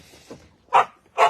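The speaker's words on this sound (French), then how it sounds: "Le chien est enfermé, il s'est emmêlé avec Alès" A shut-in dog gives two loud, distinct barks about half a second apart, near and clear against a quiet room, preceded by a faint softer yelp.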